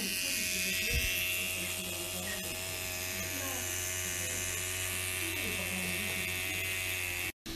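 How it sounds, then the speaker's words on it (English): An electric shaver buzzes steadily near the microphone while a man's chest is shaved, a continuous high whine running the whole time under a voice, cutting out briefly near the end. "Did you shave your chest again?"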